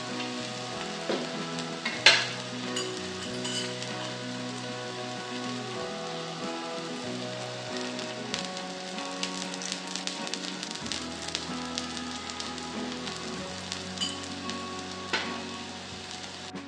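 Fenni, a flaky fasting-day sweet, sizzling in ghee in a pan after being flipped to brown the second side, a steady dense crackle with soft bubbling throughout, moderately loud and close, with one sharper pop early on.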